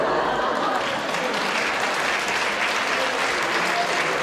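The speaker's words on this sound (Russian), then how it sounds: "Аплодисменты Владимиру Витальевичу" An audience applauds at an anniversary concert, with dense, loud, sustained clapping that fills the whole moment evenly from start to finish.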